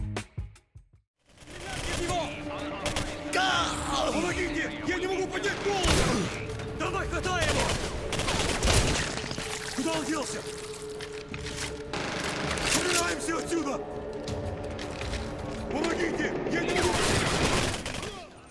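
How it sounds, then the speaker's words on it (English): Dense rapid gunfire and explosions from the first-person shooter game Singularity on PS3, loud and continuous with bursts of automatic fire, with a voice talking over parts of the action. "Singularity is a first-person shooter that blends traditional gunplay with special powers"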